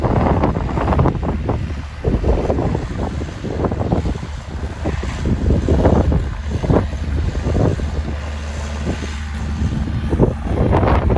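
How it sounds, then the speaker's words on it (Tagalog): Strong, cold, continuous spring wind roars over a rice field in Japan and buffets the microphone, with a steady rushing like surf underneath, loud and unbroken throughout. "Pusog kayong hangin. Tugnaw ang hangin."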